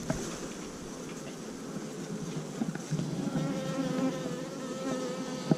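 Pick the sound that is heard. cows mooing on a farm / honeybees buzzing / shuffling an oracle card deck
honeybees buzzing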